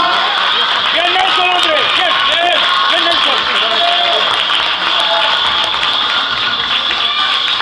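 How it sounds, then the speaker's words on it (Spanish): Crowd at a 2009 championship awards ceremony bursting into loud, sustained applause and cheering for three winners, steady clapping filling the room with voices mixed in throughout. "un fuerte aplauso para cada uno"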